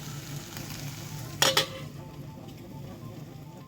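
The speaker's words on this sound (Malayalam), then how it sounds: "ഇനി ഇത് സിമ്മിലിട്ട് അടച്ച് വെച്ച് വേവിപ്പിക്കാം." A potato stir-fry cooks covered on a low flame, a soft steady sizzle with a brief clatter of a utensil or lid against the pan midway.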